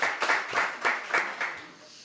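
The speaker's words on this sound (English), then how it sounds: "Give Al a nice round of applause." Round of applause for a recovery-center founder at a small gathering, a few sparse hands clapping in bursts that fade toward the end, no voices over it.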